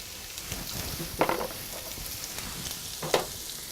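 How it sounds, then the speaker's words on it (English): Onions sauteing in regular olive oil in a skillet give a soft, steady sizzle, with two brief louder crackling bursts rising out of the quiet frying. "I want to saute these until they're translucent and tender."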